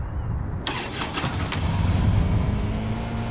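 A motorcycle engine in a Brazilian open-world crime video game starts up abruptly and then idles with a steady, loud rumble that keeps running to the end.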